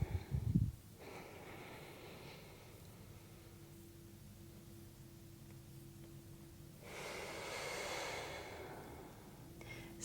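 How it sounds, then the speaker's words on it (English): Slow, deep yoga breathing during a mellow stretch: a sharp nasal intake at the start, then a long, soft, airy exhale and another breath near the end, close and quiet. "Finish up 3 more breaths."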